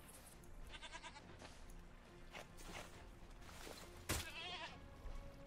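A goat in the Life in the Woods game bleats several times over a quiet background, with one louder, sharper bleat near the end and no talk.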